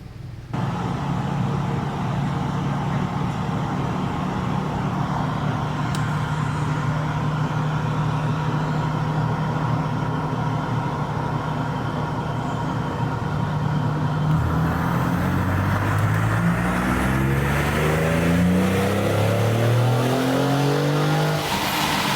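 A 2019 Ford Raptor truck with 142,000 miles runs hard on a dyno, its loud, steady engine drone swelling into a climbing rev partway through, with no one talking.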